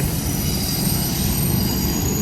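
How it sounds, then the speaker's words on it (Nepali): A loud freight train rumbles past close by at the seaside, wheels grinding and screeching steadily on the rails throughout. "सामान बोक्ने ट्रेन हिँड्दैछ।"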